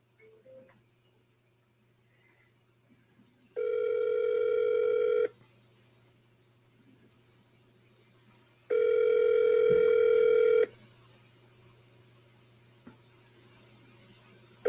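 Two long telephone ring tones on a call line, each about two seconds, separated by a few seconds of quiet hum, heard while dialing a seller in a real estate call.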